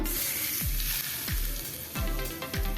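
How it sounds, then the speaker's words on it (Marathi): Loud, steady sizzling of hot-oil tempering poured over fresh turmeric pickle, with a few sharp clinks of a metal spoon against a pan landing roughly every half second or so. "आता ह्याच्यावरती आपण फोडणी घालूया"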